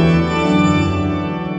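Church pipe organ sounding a sustained chord on two mixtures, one a four-rank main mixture and one a two-to-three-rank sharp, with Principal 8' and Octave 4', bright and full, loud and steady with no voices.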